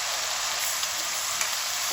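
A spoon stirs whisked yogurt in a hot pan, giving a dense, continuous sizzling hiss with a few faint scrapes, close and alone without speech.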